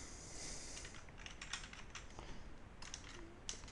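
Keys on a computer keyboard are typed in quick, uneven bursts of light clicks, faint and close, with no voices.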